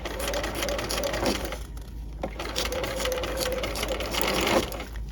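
A sewing machine stitches an underarm side seam in a steady loud whirring run with brief slowdowns and pauses, close up and continuous, no speech over it.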